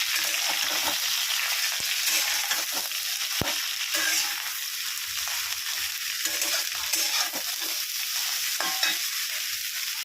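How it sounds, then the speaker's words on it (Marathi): Okra frying in oil in a pan gives a loud, steady sizzle with scraping stir strokes throughout, and no voices. "तर आपली भेंडी अशा प्रकारे फ्राय करायला आपण वरती ठेवलेली आहे।"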